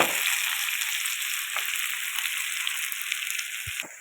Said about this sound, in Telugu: ఇది వేపుకోవడమే మనం.